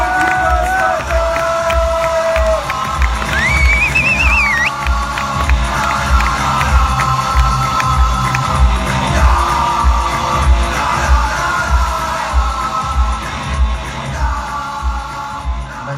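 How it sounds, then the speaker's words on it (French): A crowd in an arena at a European 3v3 X-Mania final cheers, whoops and yells for a team, loud and continuous, with a low pulsing beat from music underneath. "je vous demande de les applaudir, les Last Attack"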